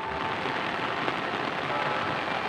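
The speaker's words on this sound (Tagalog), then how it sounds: "Umuulan na, lakas ng ulan." Heavy rain pours down steadily in a dense, even hiss that stays loud and unbroken throughout, with no voices over it.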